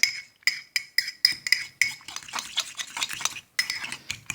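A utensil beats a vinaigrette of onion, vinegar and mustard in a bowl, giving quick rhythmic clinking strokes that run together into a faster, steady whisking.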